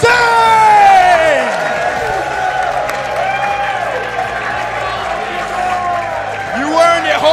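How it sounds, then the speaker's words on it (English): A crowd at a Super Smash Bros. Melee tournament applauds and cheers loudly over bright music, with whoops rising near the start and again at the end. "give a loud round of applause to our Collision 2024 Super Smash Brothers Melee champion, Zain!"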